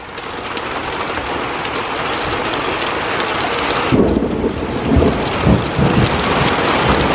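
Heavy rain pours down in a dense steady hiss, then loud thunder cracks and rolls in several booming bursts over the second half, close and powerful above the downpour.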